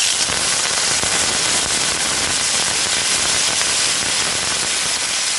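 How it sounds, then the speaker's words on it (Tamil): Mustard seeds and urad dal sputter and pop in hot oil, a dense, continuous crackle of tiny bursts held at a steady level throughout, with no talking. "கடுகு, உளுத்தம்பருப்பு நல்லா வெடிக்க ஆரம்பிச்சிருச்சு"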